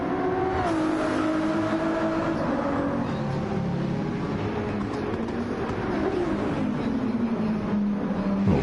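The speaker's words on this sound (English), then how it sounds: "Little Ferrari battle at the back here" Ferrari 296 race cars battle at Trial Mountain in Gran Turismo 7, their engines a steady, loud, whining roar with pitch climbing and falling through gear changes, nearby and continuous with no talk.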